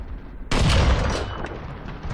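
A tank cannon fires in War Thunder ground combat, one loud, close boom that hits at once and fades into a long rumbling tail, with no voices over it.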